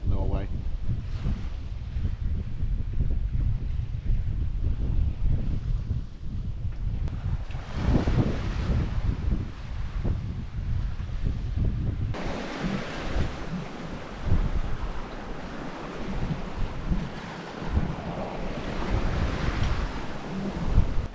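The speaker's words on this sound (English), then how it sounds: "we've still got wind" Strong wind buffets a sailing boat at sea along the south coast of Norway, a constant roaring gust noise mixed with waves and surf against the hull, loud and continuous throughout.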